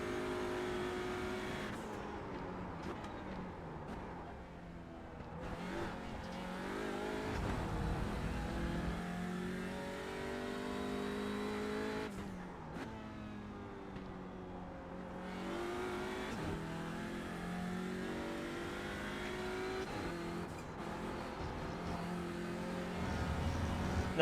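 Race car engines roaring at Spa in iRacing, a steady loud drone that rises and falls in pitch through gear changes over about twenty-four seconds, with no talk over it.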